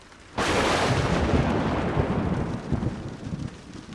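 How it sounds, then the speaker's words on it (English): Thunder from a nearby lightning strike in remote British Columbia backcountry breaks suddenly after a moment of quiet, a loud, close crack that rolls into a long rumble slowly fading over several seconds. "Then lightning strikes nearby."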